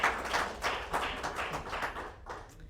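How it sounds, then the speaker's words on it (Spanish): A crowd applauds for God and for itself, with dense, steady clapping at close range that thins out toward the end. "Así que un aplauso para Dios y un aplauso para ustedes"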